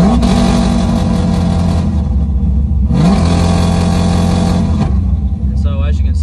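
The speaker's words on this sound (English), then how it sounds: "I'm just gonna rev to 3000 RPM or 3500 RPMs" A car engine held at about 3500 RPM by launch control from a Lingenfelter LNC-2000 module, a loud steady drone that cuts out twice and then returns to a sustained rev, with a brief sound at the end.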